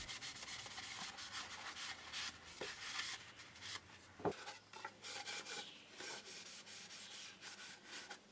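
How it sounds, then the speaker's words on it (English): A cloth rubs oil finish onto a walnut and beech wooden box, giving quiet, repeated swishing strokes with a few small knocks, close and faint. "I add a good coating of oil all around the box, inside and out"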